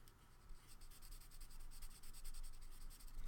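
Soft continuous scratching and rubbing of a Jane Davenport alcohol marker's fine tip coloring on regular paper, close and quiet, with short repeated strokes in a steady rhythm.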